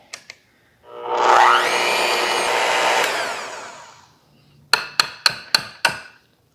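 An electric hand mixer whirs steadily for about three seconds while beating cake batter, its pitch sliding as the beaters work, then winds down; five sharp taps follow as the beaters are knocked against the bowl.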